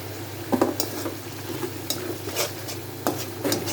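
Spices with cumin and salt sizzle in a pan with fish for a tomato fish bhuna, as a spoon stirs through the frying with a few scraping bursts over a continuous close, moderate hiss.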